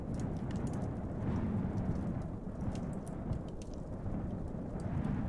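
A storm in the video game Erzurum: steady heavy rain with rolling thunder surging and fading underneath, close and loud the whole way, with scattered sharp drop ticks and no voices.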